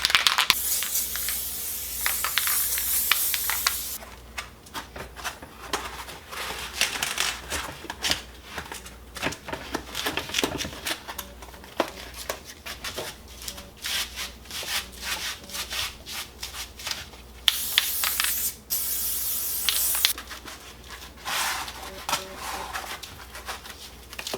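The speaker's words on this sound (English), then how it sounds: "It works best if you spray it on and let it sit a couple minutes" Bursts of hissing spray from an aerosol can of spray adhesive, loud and close, broken up by rubbing and scraping sounds between the sprays.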